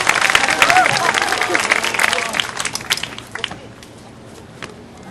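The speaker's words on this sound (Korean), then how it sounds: "여러분 격려의 박수 부탁드립니다" Crowd applause at a taekkyeon battle match between university teams, a dense burst of clapping that thins out and fades after a few seconds, with voices and movement underneath.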